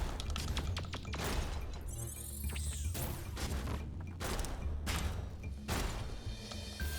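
Missile launcher in the steampunk shooter Clockwork Ambrosia firing repeatedly, a series of sharp, loud blasts and thuds spaced roughly a second apart over mechanical game sounds.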